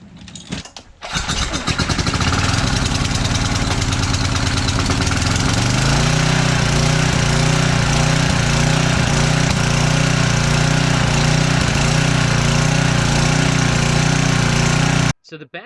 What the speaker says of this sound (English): the bad thing about these generators is they're just so damn noisy